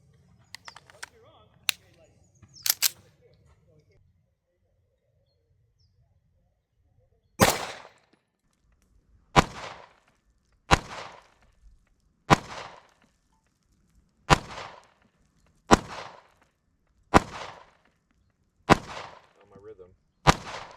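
A Kimber 2K11 pistol fires about ten sharp, loud shots at targets, spaced roughly one to two seconds apart in an even rhythm, after a few quieter clicks and knocks at the start.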